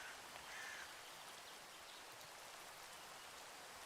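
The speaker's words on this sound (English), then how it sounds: "As it's just raining." Steady rain falls in a modded Minecraft hardcore world, a soft, even hiss that holds for the whole stretch at a quiet, distant level.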